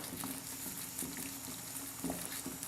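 A pot of water with cloves bubbles on a stovetop at a rolling boil, a faint, steady patter of small pops and gurgles that keeps going throughout.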